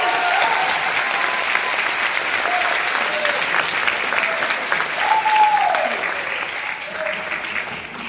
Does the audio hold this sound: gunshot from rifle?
no